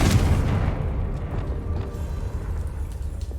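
A Confringo spell explosion in the video game Hogwarts Legacy, with a loud boom at the start that rumbles and decays into a low sustained roar lasting several seconds.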